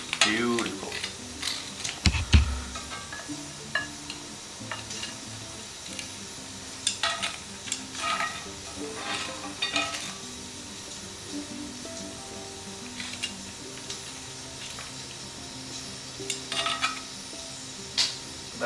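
Crayfish pan-seared in herby garlic butter give a low, steady sizzle, broken by scattered light clinks and scrapes of utensils against the pan and one deep thump early on.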